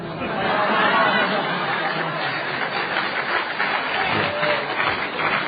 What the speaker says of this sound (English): I would like to think y'all clapping for me